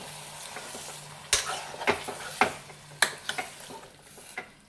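Tomato curry stirred in a pan: a soft steady sizzle runs underneath while a spoon scrapes and clinks against the metal in irregular close strokes, with no talking.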